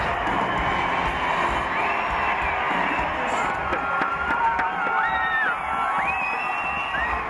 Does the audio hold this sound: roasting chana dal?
no